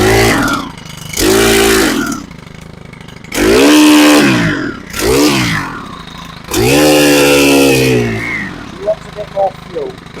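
A STIHL BT131 earth auger's small four-stroke engine, which stalls at tick over when warm, is revved in several loud bursts that rise and fall, with short idling gaps between them and a few faint clicks at the end.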